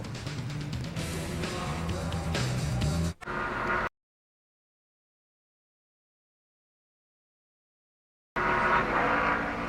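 A NASCAR Busch Series car on a qualifying run at Kansas Speedway in the 2004 Mr. Goodcents 300 gives a loud engine roar for a few seconds. It cuts to complete silence, then the roar returns briefly at the end.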